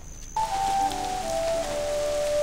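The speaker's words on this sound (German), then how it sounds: "Ihr hört es schon, es regnet." Steady rain falls in Black Desert Online, a broadband hiss that starts abruptly and continues with thin tonal game music lines layered above.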